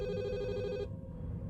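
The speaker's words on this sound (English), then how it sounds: "The antique landline phone from the previous owner's time suddenly rang in a long, frantic sequence." An antique landline telephone rings with a bright, sustained electric bell tone that stops abruptly partway through, leaving a low background hum.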